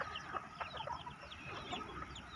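Several chickens cluck and chirp in short, irregular bursts, moderately close, with a steady low background hum and no talking.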